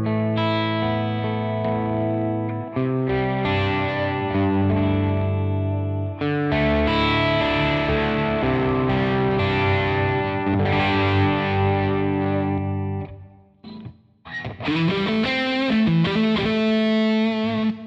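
Electric guitar played through a Spark drive pedal with a buffer, giving sustained overdriven chords with a chorus-like shimmer and echo, loud and continuous apart from a short break near the end; no one speaks.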